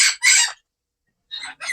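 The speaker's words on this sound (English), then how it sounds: "You made my bird go crazy." A pet bird lets out two loud, excited squawking bursts close by, then after a brief silence two more raspy calls, the last running to the end.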